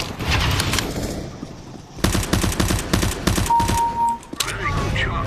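Rapid automatic gunfire in Counter-Strike: Global Offensive, dense bursts of shots with game sound effects and a brief tone, loud and close throughout.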